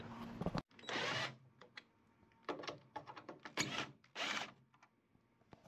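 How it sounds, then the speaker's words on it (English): T25 screws being driven out of the tail lights on a Ram Power Wagon with RamBox, heard as several short whirring bursts of a cordless driver separated by clicks and handling noise, fairly close. "there's some T25 screws that will need to be taken out"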